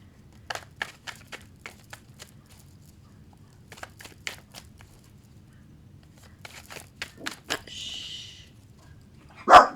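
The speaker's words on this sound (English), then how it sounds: "the dogs around my house are barking, so my dog's barking" Dogs barking around a house, one dog nearby joining in: sharp, scattered barks arriving in clusters, with a high whine partway through and a loud close bark at the end.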